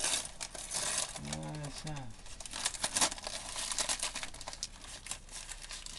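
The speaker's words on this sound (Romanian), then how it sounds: "Rupe hârtia." Wrapping paper crinkles and tears as a child unwraps a gift at home, steady rustling bursts close by while a person speaks briefly.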